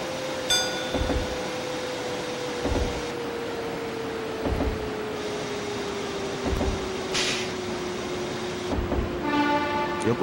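A commuter train on the Keihin-Tohoku line, a series 209 local train in the Densha de GO! Professional game, rolls slowly to a halt at Yokohama station, its steady hum gradually falling in pitch as chimes and periodic clunks sound alongside.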